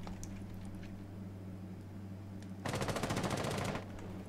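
A short burst of machine-gun fire from the video game Rainbow Six Siege, a rapid rattle of about a dozen shots lasting roughly a second after a quiet lull with a steady hum.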